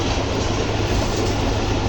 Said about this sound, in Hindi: सारा शोर रेल गाड़ी का होता है